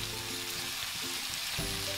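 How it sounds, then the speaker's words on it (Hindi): Onions fry in a pan with salt and turmeric, making a continuous bright sizzle with light crackle and a few stirring scrapes, heard alone without speech. "अब हम इसे 5 मिनट के लिए और भूनेंगे।"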